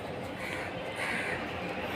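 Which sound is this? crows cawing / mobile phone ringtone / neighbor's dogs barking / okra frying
crows cawing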